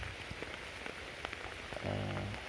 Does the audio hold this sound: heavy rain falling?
yes